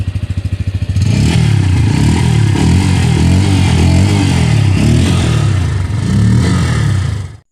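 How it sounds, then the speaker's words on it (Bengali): A Bajaj Pulsar 160N motorcycle idles with a rapid exhaust thump, then revs up loudly into a sustained, rising and falling roar close by before cutting off abruptly. "এখন বাইকের এক্সস্ট নোটটি একটু শুনে নেওয়া যাক"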